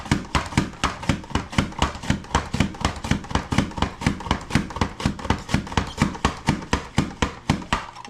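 Vegetables for spaghetti sauce are chopped with a small kitchen chopper in a fast, even rhythm of sharp knocks, about three per second, close and loud and steady throughout.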